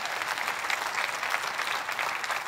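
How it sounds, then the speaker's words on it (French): An audience at a church gathering applauds in steady, dense clapping that fills the room at even loudness throughout, with no speech over it. "Est-ce qu'on peut applaudir la lumière qui brille encore et encore et encore?"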